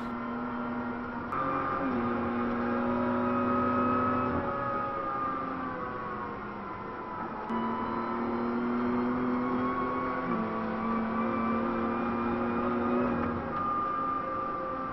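Car lapping the Nurburgring, a steady engine drone heard from inside the cabin that rises and falls as it shifts through gears, fairly faint and continuous without talk.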